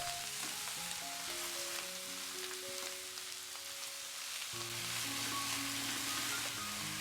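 Oyster mushrooms fry in hot oil, giving a steady, fairly quiet sizzle that runs throughout, with no talking over it.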